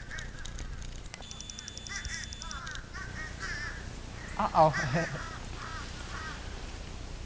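A flock of crows caws overhead, many harsh, scattered calls overlapping, some close and loud, with a brief voice in the middle and an outdoor background.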